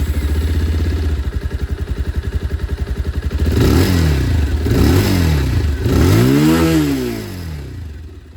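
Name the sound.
Bajaj Pulsar 220F motorcycle exhaust sound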